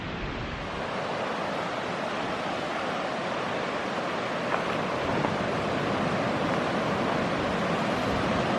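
Rushing river beside a roadside camping spot, a steady, dense broadband roar of water filling the whole clip with no pauses, loud and close.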